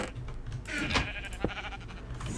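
A Minecraft sheep bleats in the FTB Unleashed modpack, with one clear wavering bleat near the middle against a busy, noisy game background.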